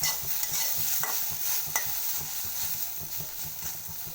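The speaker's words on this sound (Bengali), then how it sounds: "একটু পর পরে নাড়াচাড়া দিই" Food fries quietly in a pan while a utensil stirs it in a steady, rhythmic series of soft scrapes and taps over a low, continuous sizzle, with no one speaking.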